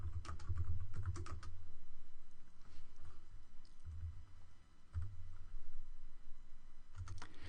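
Someone types a prompt into C# code on a computer keyboard, with quick clusters of close clicking keystrokes separated by short pauses.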